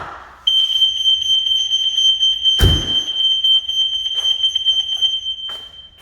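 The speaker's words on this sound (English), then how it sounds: "And then I'm going to set the alarm off." A Ferrari 360 car alarm blares a loud, steady high-pitched electronic siren tone that holds continuously after a short lead-in, with a sharp thunk partway through and a few faint clicks.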